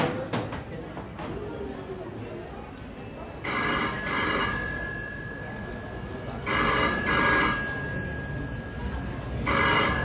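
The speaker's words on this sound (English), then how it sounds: "That phone is ringing." A telephone rings in repeated bursts during a school stage play, the bell-like trill sounding in three loud spells over steady background murmur and hall ambience.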